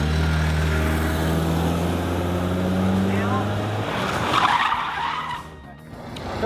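A car skids through a reverse 180 spin at a stunt driving school: a steady engine drone and tire noise run for several seconds, then a louder burst of scrubbing tires as the car whips around, with a voice partly over it.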